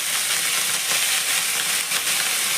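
Raw potato cubes fry in hot oil with curry leaves, giving a loud, close, continuous sizzle and crackling hiss with slight surges as the pieces settle.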